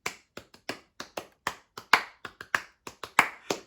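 Hands clap about fifteen times in a loose, uneven rhythm, sharp and close in a quiet room, with no voices.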